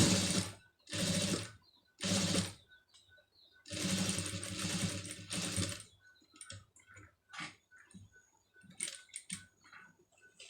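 A sewing machine stitches a pom pom trim design onto fabric in short, close bursts of rapid whirring separated by brief pauses, followed by lighter scattered clicks and handling sounds.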